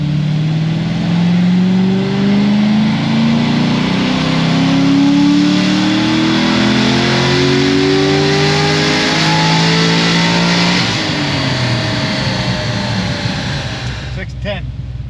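Supercharged Stage 5 Corvette C6 Z06 screams through a long, loud wide-open dyno pull, pitch climbing steadily for about ten seconds before the revs drop and it settles back toward idle.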